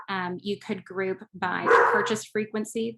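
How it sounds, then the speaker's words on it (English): A dog barks in repeated yips and bow-wows in the background throughout, under a person's steady speech, with a louder, noisier burst of barking near the middle. "sorry about the dog,"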